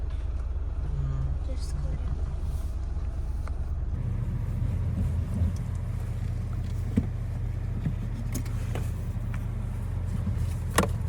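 A car turns around on a road during a family trip to Chikmagalur, its steady engine rumble continuous and close from inside the vehicle, with people talking over it throughout.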